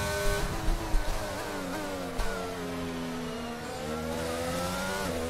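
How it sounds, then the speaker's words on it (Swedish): An F1 car engine in the F1 22 racing game revs hard and accelerates, a loud, steady high-pitched whine climbing through the gears with brief dips at the shifts. "Right, då gasar vi bara."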